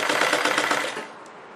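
A sewing machine stitching a chudidar sleeve gives a fast, close rattle of needle strokes for about a second before it winds down into quiet.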